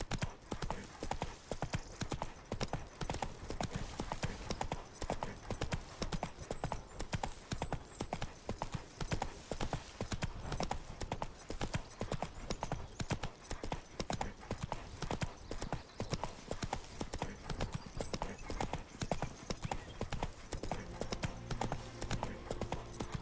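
Horse Roach's hooves in The Witcher 3 game clop in a steady, continuous rhythm over a dense, loud mix of game ambience and music, with no pause throughout.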